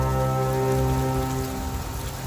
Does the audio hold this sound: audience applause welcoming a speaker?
no